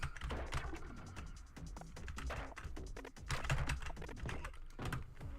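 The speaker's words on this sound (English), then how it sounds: "this game is probably pretty loud because the keyboard is so loud" Rapid, loud clacking of a computer keyboard being typed on continuously, close up, with no talking.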